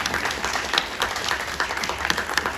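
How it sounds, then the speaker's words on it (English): A convention crowd at a San Diego comics event claps in a dense, even burst of applause that holds steady throughout, with no talk over it. "David, you always deserve a round of applause."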